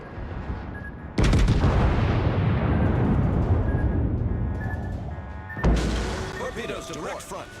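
Torpedo hits and explosions in World of Warships: a sudden loud roaring blast that rumbles on for several seconds, then a second sharp explosion, with game voice callouts around it.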